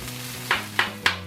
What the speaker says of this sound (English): Get it frying.